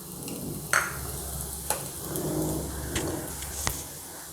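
Five or six garlic pieces and ginger sauté in a pan over softened onions for matar paneer, a soft, faint sizzle broken by a few sharp clicks of a spoon against the pan.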